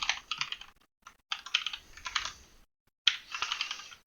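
Someone types on a new computer keyboard in quick bursts of close, crisp key clicks, with short pauses between the flurries and no talking.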